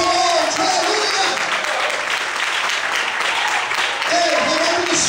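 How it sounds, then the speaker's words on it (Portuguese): Applause from a church congregation fills the hall, loud and sustained, with a voice speaking over the clapping at the start and again near the end. "Pode aplaudir o Senhor nessa noite"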